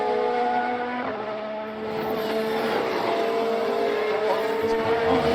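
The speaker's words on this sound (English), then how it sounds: "Engine sounds louder than you." A Formula 1 car engine from the F1 Manager 22 racing game whines at high revs, its tone climbing and shifting as it passes.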